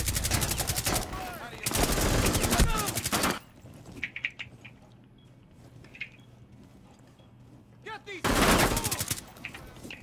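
Automatic gunfire in the video game Rainbow Six Siege comes in two dense, rapid bursts, then a quieter stretch with scattered small sounds. A third loud burst follows, with some voice heard among the shooting.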